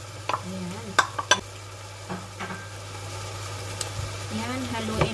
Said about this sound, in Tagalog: Ayan, haluin natin. Haluin ng maigi, no? Hanggang ma-mix lahat.